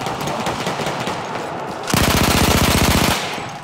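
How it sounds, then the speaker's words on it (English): Automatic gunfire in a video game shootout, a rapid, evenly spaced burst of loud shots lasting about a second, following a dense roar of in-game noise. "Shit, I missed all my shots."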